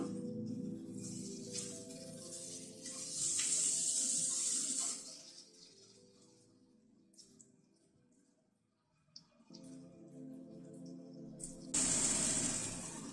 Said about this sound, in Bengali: আদা রসুন পেঁয়াজ কাঁচা লঙ্কা সবকিছুকে একসাথে ভেজে নিচ্ছি।